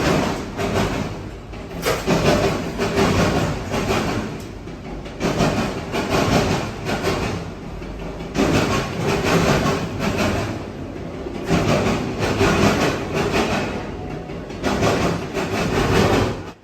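A northbound Norfolk & Western train rolls past, loud and close, with a heavy, continuous rumble and rattling wheel noise that swells and eases in waves.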